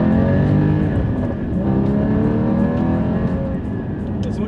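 A Porsche Cayenne Turbo S engine hums steadily at close range with a low, even drone, while someone talks over it throughout.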